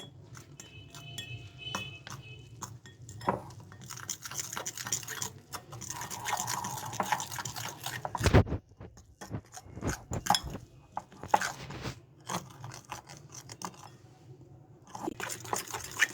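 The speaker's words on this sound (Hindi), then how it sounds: "पानी डाल के इसको अच्छे से अब हम जो है वो मिक्स करेंगे" Gram flour batter for dahi phulki stirred with added water in a bowl: soft wet scraping and clinking of a utensil in uneven bursts, with a few sharper knocks, close and moderately quiet.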